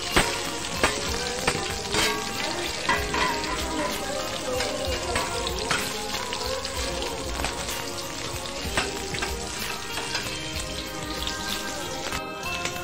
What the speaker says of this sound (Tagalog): tumitilansik, tilansik na mantika